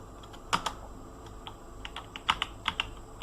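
Computer keyboard keys tapped in a quick, irregular burst of crisp clicks, close and fairly quiet, as keyboard shortcuts are entered in a terminal on a Debian Linux system, with no voice.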